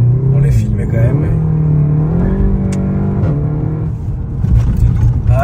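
A car engine accelerates and drones steadily, its pitch rising and falling as it is pushed. The engine stays loud and close throughout, heard from inside the car.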